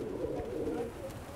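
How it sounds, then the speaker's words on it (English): Pigeons in Brooklyn cooing, a soft low warbling coo that rises and fades within a second or so, close but quiet. "I want to see if I can put these pigeons to sleep"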